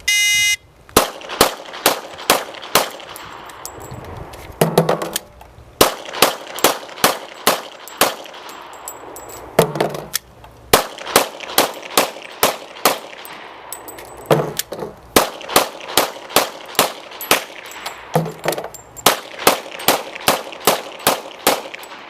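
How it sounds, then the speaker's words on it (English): Five strings of six sharp, loud gunshots each ring out at a steady pace, every string broken by a brief pause with metallic clatter while the magazine is changed. "Now Jim's going to demonstrate shooting 5 6-round magazines."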